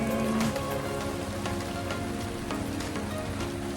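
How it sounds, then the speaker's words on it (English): Heavy rain with big drops falls steadily outdoors on a beach day in the Philippines, a dense continuous patter on surfaces with a few sharper hits, loud and close, with no talking. "It's raining and everybody's hiding."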